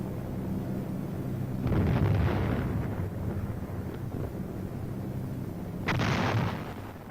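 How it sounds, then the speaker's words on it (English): Heavy artillery barrage explosions from an old war documentary, two deep rumbling blasts a few seconds apart rolling over a steady background roar, with no one talking. "And heavy artillery barrages."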